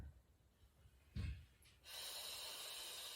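A deep breath drawn in during a stretching session, a brief breathy burst followed by a steady airy hiss that carries on alone to the end.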